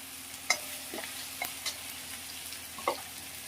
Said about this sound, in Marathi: कांदा घालूया. मला चांगलं परतूया व्यवस्थित.